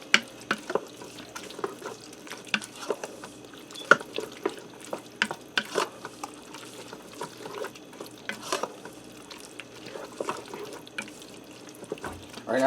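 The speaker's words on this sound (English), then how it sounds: "Now I'm going to give this a stir quick. Get everything mixed together." Cowboy baked beans with barbecue sauce and bacon being stirred in a Ninja Foodi pot: repeated close, wet scraping and clacking strokes of a spoon, with no talking.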